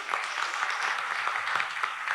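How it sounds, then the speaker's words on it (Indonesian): Short burst of audience applause at a post-election panel event in Semarang, dense even clapping for two seconds with a faint voice underneath. "Kita kasih tepuk tangan dulu."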